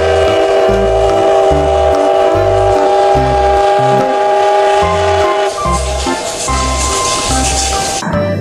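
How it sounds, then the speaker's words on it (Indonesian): A toy Thomas train gives off loud, continuous electronic train sounds: a rhythmic chugging beat under sustained whistle-like tones, close by and steady. "Yang ini ada kereta Thomas"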